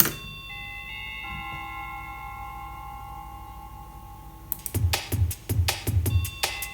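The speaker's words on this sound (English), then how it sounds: "The intro is just drums and bells actually." Chiming bells ring out over a soft sustained pad, then punchy drum hits enter in a steady rhythm alongside sharp metallic strikes.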